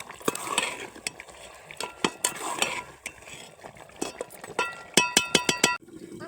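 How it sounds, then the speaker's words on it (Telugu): Mutton curry stirred in a pot makes wet scraping and clinking sounds up close, and toward the end a spoon raps the metal pot several times with bright ringing taps. "మంచిగా కలుపుకోవాలి"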